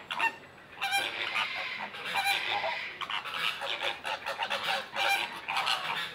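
Geese and other fowl honk at the World of Birds wildlife park, a noisy overlapping chorus of calls at mid distance with bursts of louder honking.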